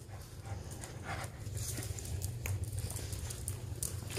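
A puppy pants and shuffles about nearby, soft quick breaths and light pattering movement over a low steady background hum, with no one talking.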